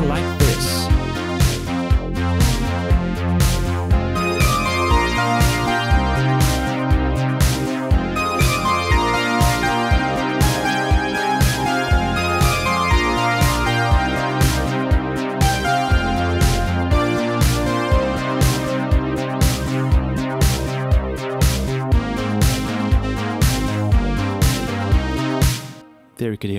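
Old-school Italo disco track with DX7 polysynth, strings and brass, driven by a steady four-on-the-floor beat with busy layered melodic lines, loud and continuous for about half a minute before cutting off.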